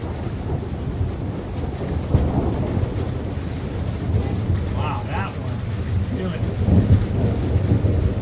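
Southern California thunderstorm with steady rain hissing on surfaces and low rolling thunder rumbling underneath, while people talk quietly nearby.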